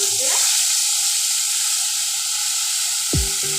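Tomato and ginger paste frying in hot oil, a loud steady hiss and sizzle from close by, with a brief clatter near the end and no talk.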